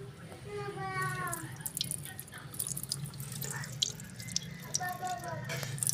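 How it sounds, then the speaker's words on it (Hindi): Chili peppers being washed in a bowl with gram flour and water, wet sloshing and dripping with squishy handling, close up, with a voice talking briefly over it. "ये जी बेसन के साथ, बेसन में इसको धोया जा रहा है।"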